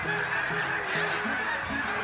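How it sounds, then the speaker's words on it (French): Canada geese honk in flight during migration, a flock calling in repeated overlapping honks, moderately distant over steady background noise. "on entend effectivement les cris des oies qui leur permettent d'éviter les collisions"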